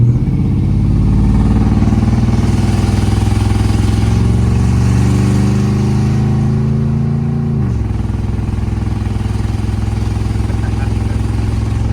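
Stock 5.9 Magnum engine in a 2002 truck on 38-inch tires revving at three-quarter throttle, a loud steady drone whose pitch climbs over several seconds and then drops sharply near the end as the throttle comes off.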